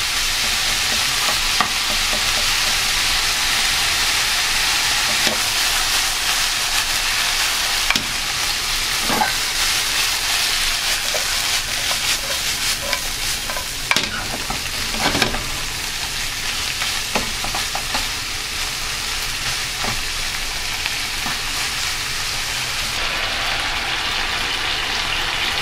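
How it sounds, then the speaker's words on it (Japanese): Mushrooms and other gratin filling ingredients are stir-fried in a pan, giving a loud, continuous sizzle with scattered scraping stirs throughout, close up and without talking. "少し炒めてグラタンのね具にしたいと思います"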